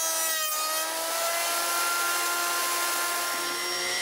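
An electric planer shaves a wooden board, making a steady, loud whining roar with a harsh rasp as the cutter runs continuously across the wood.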